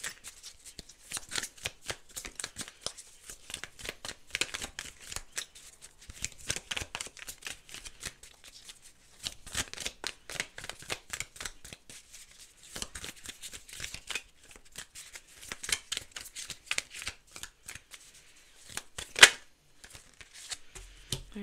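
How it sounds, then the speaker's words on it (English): Tarot cards are shuffled continuously and close up, a dense riffling patter with bursts and brief pauses as the deck is gathered and reshuffled, with no talking. "shuffling for your energy, there was a lot of needing to put the cards back together, to keep reshuffling"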